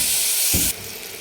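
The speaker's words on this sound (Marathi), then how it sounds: "दोन मिनिट आपल्याला परतून घ्यायचं आहे चांगलं तेलावर छान" Sprouted moth beans and a few peas fry in hot oil in a pan, giving a loud, close, continuous sizzle with a brief stirring scrape before the hiss drops abruptly to a quieter level.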